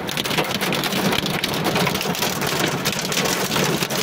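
Heavy rain from a storm with strong winds pours down steadily, a loud dense wash of drops drumming on surfaces with no break.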